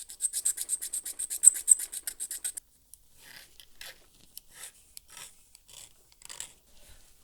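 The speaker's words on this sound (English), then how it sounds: "So I'm going to need to file that a little bit more straight." Rapid rhythmic rasping strokes of a file on the metal rear end of a die-cast Hot Wheels Dixie Challenger toy car, then slower, scattered scraping and tapping, all close and fairly quiet.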